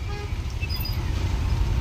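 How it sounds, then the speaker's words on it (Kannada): Town road traffic in Tumakuru, heard from an auto-rickshaw: a close, continuous engine and road rumble with faint, brief car-horn toots. "ನಮ್ಮ ತುಮಕೂರಲ್ಲಿ ಎಂತ ಟ್ರಾಫಿಕ್ ಐತಿ ಇವಾಗ"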